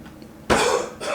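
A single sharp cough from a man bursts out close to the microphone, followed by a second, softer cough.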